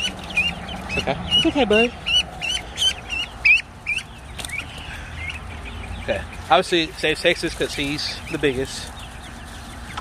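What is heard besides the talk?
chickens clucking in backyard coop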